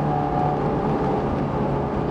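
A Scion FR-S engine pulls under throttle with a steady, dense drone and a faint whine, loud and close throughout the short stretch with no talk.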